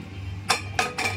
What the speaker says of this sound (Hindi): कुकर का ढक्कन होगा बंद